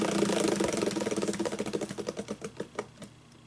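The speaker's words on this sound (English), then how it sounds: "let's just spin the wheel" A spinning wheel ticks rapidly past its pegs, the clicks spacing out and slowing until it comes to a stop, close and clear with no talking.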